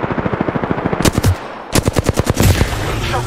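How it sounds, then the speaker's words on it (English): Rapid automatic gunfire in the Apex Legends video game comes in two sharp, loud bursts of evenly spaced shots with a brief gap between them, close and without talk. "Shot fires at me."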